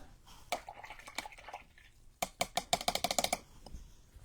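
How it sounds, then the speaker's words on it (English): A paintbrush is rinsed in a water cup while painting salvaged figures for a wintertime vignette, giving a quick burst of small close sloshes and taps, a few scattered at first and then a rapid clustered run, with no talking. "Rinse my brush again."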